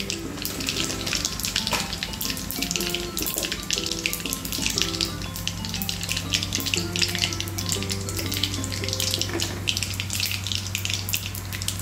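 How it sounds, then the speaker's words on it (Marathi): Mustard and cumin seeds crackle and sizzle in very hot oil while making thapi vadi, a dense, steady, close frying hiss that runs throughout without pause. "तेल चांगलं गरम होऊ द्यायचं, कडकडीत। मोहरी घालते 1 चमचाभर, जिरे 1 बारका चमचा"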